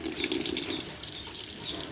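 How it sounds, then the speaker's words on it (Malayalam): Running tap water splashes steadily over a gas stove part being washed under the faucet, a continuous hiss and patter with no talk. "ഇത് നന്നായിട്ട് കഴുകിയെടുക്കണേ."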